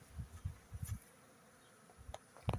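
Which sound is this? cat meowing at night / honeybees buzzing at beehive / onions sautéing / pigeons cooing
honeybees buzzing at beehive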